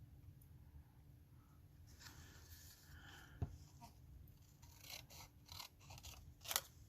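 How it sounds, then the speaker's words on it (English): Scissors fussy cutting around a stamped paper flower, close and quiet: small snips and crisp paper rustles come in irregular clusters, with a sharper snip partway through and a louder flurry near the end, over a low background hum. "I'm going to cut around right along this edge. I'm going to fussy cut."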